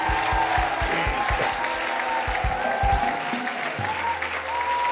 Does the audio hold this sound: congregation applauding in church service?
yes